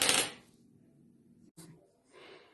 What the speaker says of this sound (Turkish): Şimdi kabaklarımı tencereye koydum.